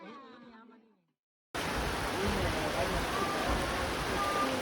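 A steady, dense hiss of light morning rain falls in Banda Neira, Maluku, loud and continuous after a short stretch of speech and a moment of silence.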